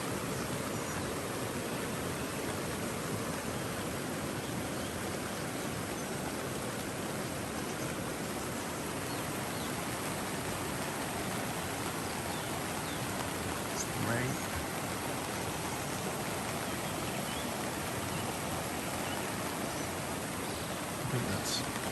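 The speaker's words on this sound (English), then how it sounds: "listening to the rain." Steady rain pattering on a tent and tarp at a camp on a grim, windless morning, a dense, even hiss close by that continues unbroken with no talk.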